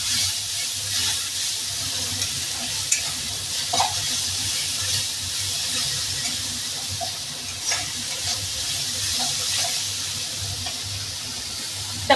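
Turmeric powder and salt stir-fried with spices in a pan for a fish curry with peas and potatoes, giving a steady close sizzle with scraping stirs throughout.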